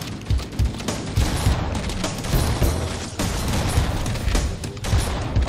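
Gunfire in Halo CE sounds as dense, continuous shots and explosions, loud and close, filling the whole stretch with no talk over it.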